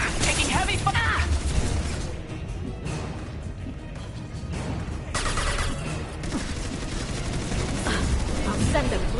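Heavy gunfire fills a firefight in Mass Effect Legendary Edition: dense, loud bursts and rattling shots crowd together with barely a pause, and voices break in over the barrage.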